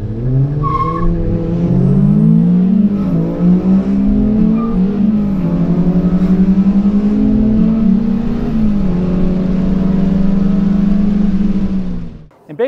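Honda Civic fitted with a swapped high-mileage K-series TSX engine, driving hard with loud, continuous engine drone rising and falling through gear changes, close and prominent, with no one talking.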